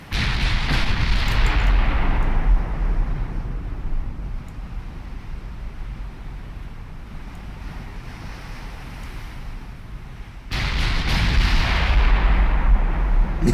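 Naval artillery fire from warship turrets in Ultimate Admiral Dreadnoughts: a heavy booming salvo opens, settles into a rumbling wash of sea and wind, then another loud blast near the end.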